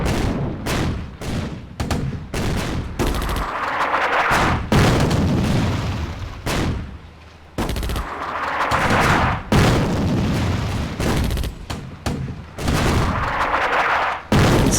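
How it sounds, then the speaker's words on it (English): Artillery bombardment in the Attack at Dawn: North Africa war game, loud repeated booming blasts and rolling rumbles in bursts, some crackling gunfire between them, close and dominant, no voices. "We are being bombed by the Germans. The Germans! Artillery and fire."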